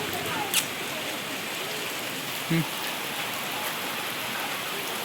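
Rain falls steadily on a rooftop terrace and surrounding surfaces, a constant wash of drops with a couple of brief knocks standing out.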